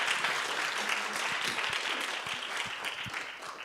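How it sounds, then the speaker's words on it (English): An audience at a conference claps together in sustained applause for a panel, with a few individual sharp claps standing out as it gradually softens. "Let's please have some applause for them."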